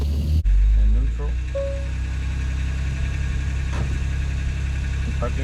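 A Kia Stinger's engine starts with a short loud burst, then settles into a steady low idle that continues throughout, with a few faint clicks and brief tones over it.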